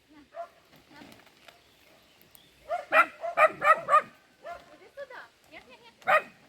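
A mother dog and her puppy bark in a quick run of sharp, close barks, with a final bark after a pause; lighter vocal sounds murmur in between.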